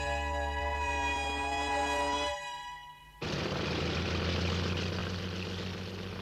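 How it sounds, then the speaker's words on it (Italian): Rescue airplane engines in a 1973 animated film, first a steady tonal propeller drone that cuts out, then a louder broadband engine roar resuming and holding steady. "I motori dell'ultimo aereo di salvataggio sono già in moto."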